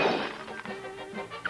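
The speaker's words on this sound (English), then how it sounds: "It's so brittle, if they ever drop it," A brittle car bumper hits the ground and shatters in one loud crash at the start, followed by a short rattling decay of breaking pieces and a final small clatter.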